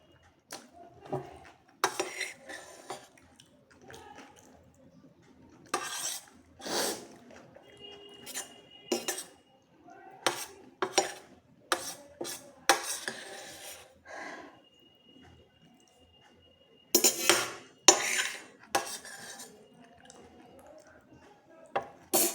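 Dishes and cutlery clink and scrape at a home dinner of rice, sharp irregular clatters in clusters separated by quiet gaps, close and fairly soft overall.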